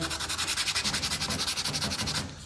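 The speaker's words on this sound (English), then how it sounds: "I'm gonna sand all this too, just to make it all as smooth as can be." Hand sanding smooths the cut edge of a Jeep TJ front fender with fast, even back-and-forth rasping strokes. The sound is loud and close and keeps a steady rhythm for about two seconds before it stops.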